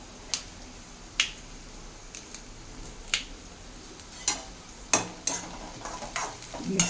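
Four torn green chillies drop into hot oil for a stuffed eggplant curry, giving sharp sputtering pops and crackles in bursts over a low sizzle, close by, with no voices.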